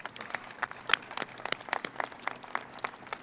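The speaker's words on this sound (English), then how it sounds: "Huge round of applause again for them." A small crowd claps, scattered hand claps with an uneven rhythm and moderate loudness, no voices.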